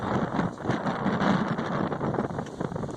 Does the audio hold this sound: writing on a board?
no